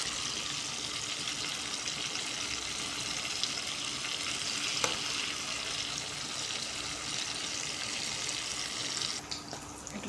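Fish sizzling in a frying pan, a dense continuous crackle and hiss that holds steady at fairly close range throughout, with no talking over it.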